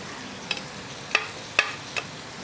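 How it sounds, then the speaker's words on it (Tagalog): Leftover sauce added to a pan of browning pork steak, a steady low sizzle with a few sharp clicks of a utensil stirring against the pan, close and without talk. "pagka alam mo na yung nagba-brown na yung pork mo, ilalagay na natin tong natirang sauce"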